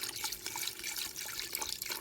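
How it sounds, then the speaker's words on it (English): Water pours steadily into a cooking pot with seasoning for cornbread dressing, a continuous splashing fill with a gurgling, bubbly texture, close and moderately loud, with no talking. "I'm gonna add about a gallon of water to this."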